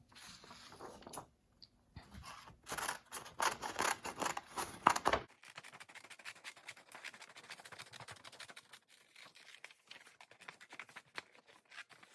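Scissors snip through paper while cutting out a bunny pattern, a string of close, crisp cuts that become quicker and lighter after a few seconds, with faint rustling between them.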